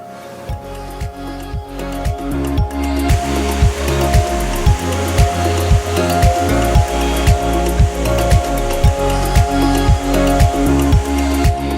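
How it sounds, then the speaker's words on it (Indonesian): Simonang-Monang waterfall in Asahan pours as a loud, steady roar of rushing water over rocks, close and continuous, with a regular thumping pulse running underneath. "aliran air yang mengalir memecah bebatuan yang berada tidak jauh dari air terjun"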